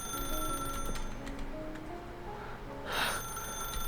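A telephone rings inside The Stanley Parable Ultra Deluxe, one bright electronic trill near the end standing out over a quiet backdrop of faint sustained in-game tones, with no one speaking.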